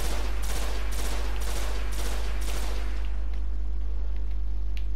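Gunfire in the video game Destiny: several bursts of rapid shots in quick succession, loud and sharp, fading to quieter background game sounds toward the end.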